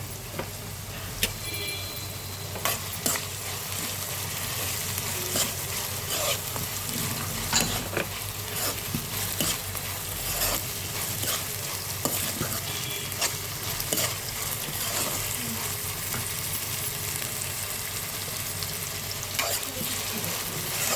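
Garlic and chopped ginger sizzle steadily in hot oil for a dal tadka, with a continuous bright hiss, a low hum underneath, and scattered clicks and scrapes from stirring throughout.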